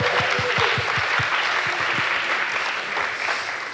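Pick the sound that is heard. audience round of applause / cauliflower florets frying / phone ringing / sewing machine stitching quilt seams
audience round of applause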